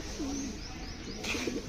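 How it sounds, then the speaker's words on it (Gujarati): Pigeons, a mix of white and black birds gathered at an aviary entrance, give soft low cooing calls at moderate distance, with faint chirps over steady background ambience. "અહીંયા એન્ટ્રન્સમાં જે તમે જોઈ શકો છો બહુ બધા વ્હાઈટ કબૂતર છે"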